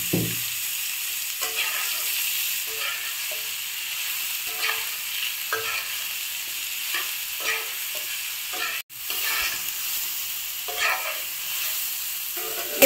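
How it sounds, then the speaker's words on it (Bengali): Boiled green jackfruit frying in hot oil with cumin and bay leaf, a steady loud sizzle with repeated stirring scrapes in a loose rhythm throughout, no talk. "এঁচড়টা আমি একটু সময় ভালো মতো ভেজে নিয়েছি।"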